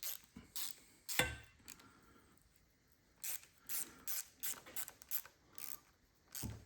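A tool loosens a Jubilee hose clip on a BMW S62 engine intake, giving sharp ratcheting clicks in short bursts separated by quiet pauses, close-up and fairly faint, with no talking.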